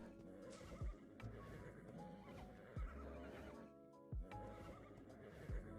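A horse in the video game Ark: Survival Evolved, shown with a mod, gives four loud, close whinnies spread evenly through the clip, with soft hoof clops and steady game ambience in between.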